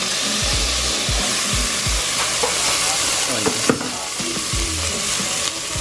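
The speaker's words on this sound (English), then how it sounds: "So now you add your 2 tablespoons of oil. 1, 2 cloves of garlic." Garlic cloves frying in about two tablespoons of oil, a steady close sizzle running throughout with a few utensil stirs and clinks, no talking.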